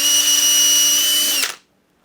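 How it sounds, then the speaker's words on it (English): A power drill spins a 7/64 drill bit through a hole in a model F-14 Tomcat airframe, giving a steady, close, high whine for about a second and a half before winding down and stopping. "I'm going to go ahead and drill out the hole closest to the center here"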